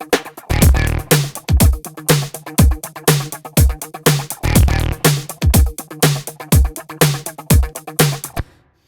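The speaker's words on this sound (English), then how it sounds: "I've got two vintage drum machine sort of sounds here from the Alesis kit." Vintage drum machine sounds from an Alesis kit play a steady pop beat of punchy kicks and snappy hits in an even rhythm, loud and up front, with no talking.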